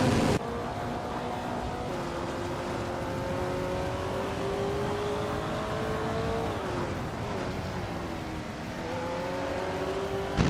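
Classic Maserati 8CTF racing car engine in a racing video game, a steady, sustained engine drone with shifting pitch lines as it accelerates and changes gear, continuous throughout with no talking.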